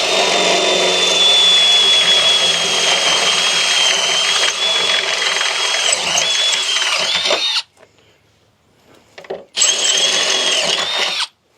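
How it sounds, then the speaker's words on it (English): A power drill drives a step bit through metal to open mounting holes for a Jeep Gladiator rock slider, a loud, steady grinding whine that stops abruptly, pauses, then resumes briefly before cutting off. "So here we've got our trusty can cut drill bits."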